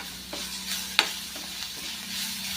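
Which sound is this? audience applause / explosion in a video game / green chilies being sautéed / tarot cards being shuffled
green chilies being sautéed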